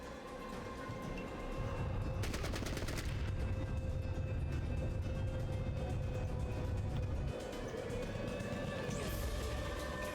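Gunfire in the Fallout Tactics video game, with bursts of rapid automatic shots over a low rumbling drone, one dense burst early and firing continuing through most of the clip.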